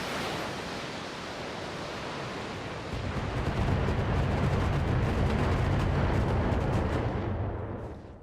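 Mechs in the BattleTech video game open fire on an Awesome mech, a dense roar of weapons fire and rumbling blasts that swells after a few seconds and holds steady before tailing off.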